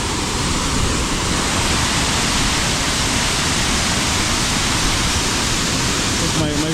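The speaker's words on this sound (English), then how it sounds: "Let's see how beautiful the waterfall is." Dense, constant roar of a waterfall heard up close on a walking trail, loud and unbroken for the whole stretch.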